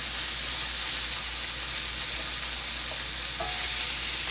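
Sausages fry in a Cracker Barrel "Lady Liberty" 2022 cast iron skillet with a steady, dense grease sizzle and hiss, plus a faint squeal near the end, with no voices.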